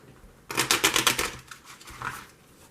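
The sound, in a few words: shuffling game cards together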